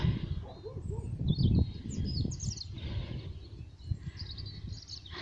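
Birds chirp and call in bursts along an early morning countryside walk on a hillside tip with gorse, fairly faint over low wind rumble, with several short trills and tweets.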